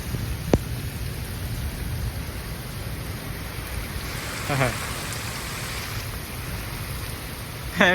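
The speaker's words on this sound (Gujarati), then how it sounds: "કટકા કાઢે એવો વરસાદ છે" Heavy monsoon rain hisses steadily in a village, with a low rumble of thunder beneath and a couple of brief voices breaking through.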